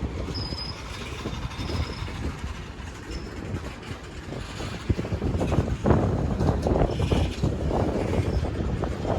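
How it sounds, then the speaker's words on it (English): A long freight train rolls past on the International Bridge near Unity Island, with a continuous loud rumble of wagons, rhythmic wheel clatter and occasional high wheel squeal, close by and building in intensity. "That's a very long train this time than before."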